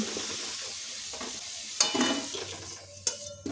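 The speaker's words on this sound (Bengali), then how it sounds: "তেলে ছেড়ে দিচ্ছি কেটে নেওয়া গাজর, দিচ্ছি লবণ আর হলুদ। গাজরগুলো এখন খুব ভালো করে ভেজে নেব।" Sliced carrots tossed in hot oil with salt and turmeric hiss steadily in the pan, broken by a couple of sharper spatula knocks and stirring scrapes near the end, close by and without speech.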